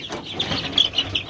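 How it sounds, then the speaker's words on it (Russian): Young chicks and hens in a backyard poultry yard at a country house cluck and chirp continuously in a brief, busy patch of overlapping calls. "Бегают, видите, растут уже цыпляки."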